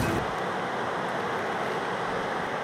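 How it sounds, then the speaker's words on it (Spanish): Steady rushing of a river current flowing near San Miguel, Carolina, a continuous broadband wash with no pauses, close and fairly loud, with no voices. "El agua corriendo da un sonido muy agradable"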